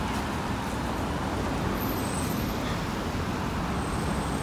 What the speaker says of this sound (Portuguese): Vários carros, né? Aí, um mais da hora que o outro passando na rua.